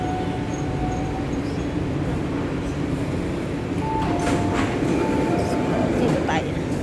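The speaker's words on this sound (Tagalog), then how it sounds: "Train is arriving." An MTR metro train pulls into a Hong Kong station, a steady rolling rumble with rail clatter and a brief high tone, heard from the platform amid faint background voices.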